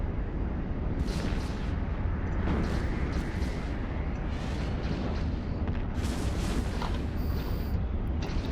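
Ship guns in the space game Kronos fire repeatedly, a dense rumbling barrage of booms and bursts that stays continuous and heavy throughout.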